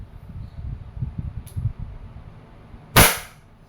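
A Wingun 708 airsoft revolver fires one loud, sharp double-action shot after a moment of low rustling handling noise, with no voices.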